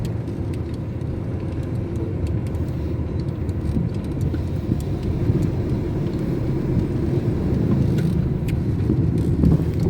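A car drives along with a steady low engine rumble and road noise from inside the cabin, continuous and fairly loud, with faint occasional clicks above.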